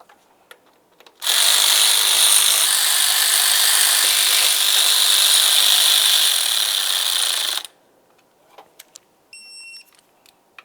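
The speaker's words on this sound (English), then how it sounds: "After they're snug, you can torque them to 89 inch-pounds." A torque wrench clicks rapidly and continuously for several seconds tightening throttle body mounting bolts on a 2010-2013 Ford Transit Connect, loud and close, followed by a few faint taps and a brief high electronic chirp.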